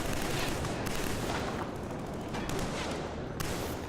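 Dense machine gun fire in the video game Killzone 3, with rapid overlapping bursts and sharp cracks rattling continuously at high volume.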